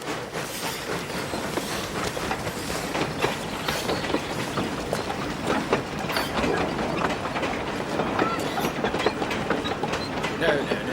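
A train rumbles steadily with rhythmic clickety-clack from the wheels over the rails, a dense continuous rattle close by.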